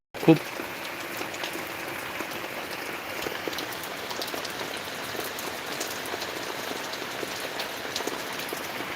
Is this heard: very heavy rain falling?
yes